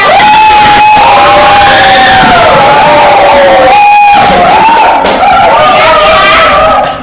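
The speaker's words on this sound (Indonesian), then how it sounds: "Beri tepuk tangan untuk kelompok Dila" A group of schoolchildren loudly cheers and shouts for a classmates' group, a close, sustained wall of high voices with a short dip in the middle before the noise swells again.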